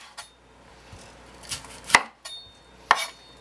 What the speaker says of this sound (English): is just chop it up until it's in rough chunks